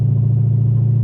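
A Dodge Hellcat's engine held against the brakes before launch, a steady, loud low droning rumble at raised idle with no change in pitch.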